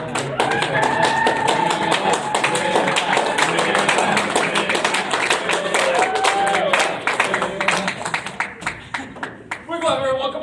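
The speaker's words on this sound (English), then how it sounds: "Come on, clap it up for him." Sustained applause and clapping from a live comedy crowd greeting a comedian, dense and loud for most of the stretch, thinning out near the end as a voice shouts over it.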